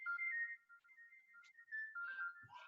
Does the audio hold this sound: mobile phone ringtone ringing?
yes